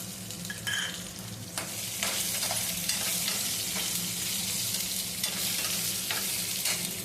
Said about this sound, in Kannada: ಶುಂಠಿನೂ ಕೂಡ ಬಿಸಿ ಮಾಡ್ಕೊತೀನಿ